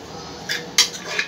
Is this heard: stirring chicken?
yes